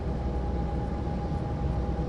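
Dense, steady low rumble and hum from a heavy coal train hauled by F7 and SD40 diesel locomotives climbing a grade in a train simulator game, continuous and fairly loud throughout.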